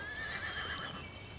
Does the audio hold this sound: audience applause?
no